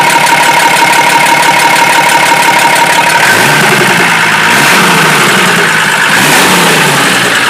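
A Chevrolet D60 truck's diesel engine runs loud and close after sitting four years, a steady rough idle with knocking that swells into a few revs in the second half.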